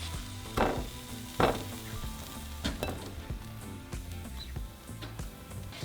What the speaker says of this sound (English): So now we are going to lightly toast our chile de árbol.